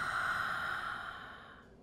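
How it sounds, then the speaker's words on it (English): A long, breathy open-mouth exhale during a yoga flow, close and soft, fading gradually to silence. "Open your mouth, exhale."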